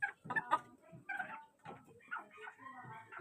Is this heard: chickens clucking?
yes